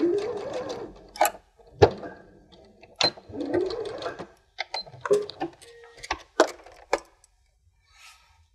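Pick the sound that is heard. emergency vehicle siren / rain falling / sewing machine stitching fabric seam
sewing machine stitching fabric seam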